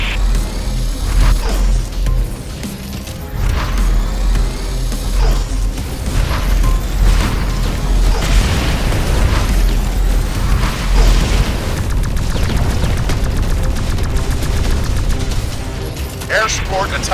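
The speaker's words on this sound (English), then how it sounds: "Tanks joining the attack." Tanks attacking amid heavy explosions in the X-Morph: Defense strategy game, with continuous loud rumbling booms, crashes and mechanical clatter throughout, and battlefield noise never letting up.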